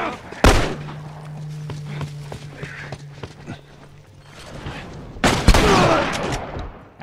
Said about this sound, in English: And then we're going mental on their ass with a shotgun.